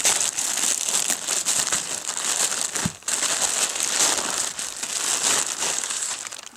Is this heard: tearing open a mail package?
yes